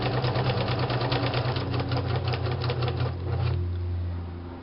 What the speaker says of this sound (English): It's good to have a use for the serger because I don't make garments anymore